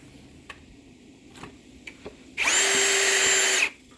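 A cordless power drill spins up for about a second, driving screws into a Hampton Bay Woodford patio set frame, loud and close, with faint ticks and handling noises before it.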